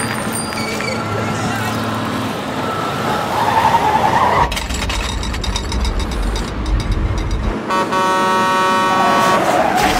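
A loud cartoon truck idles with a heavy engine rumble and mechanical rattling, while repeated horn toots ring out near the end and voices speak over parts of it.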